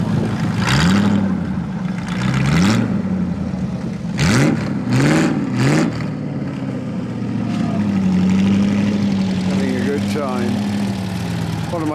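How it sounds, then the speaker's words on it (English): A V8-engined Triumph TR7 classic car revs in several sharp bursts on a classic car run, loud and near, settling into a rumbling idle with a voice talking partway through. "And a V8 engined TR7."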